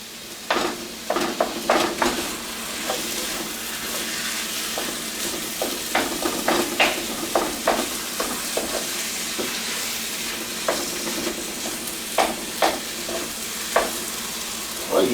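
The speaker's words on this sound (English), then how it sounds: "I'll brown that ground meat up nice and good" Ground meat browning in a pot for spaghetti meat sauce, a continuous sizzle under frequent sharp clinks and scrapes of a utensil stirring against the pot, close and fairly loud.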